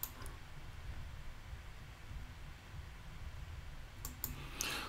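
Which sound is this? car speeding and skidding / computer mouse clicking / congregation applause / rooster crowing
computer mouse clicking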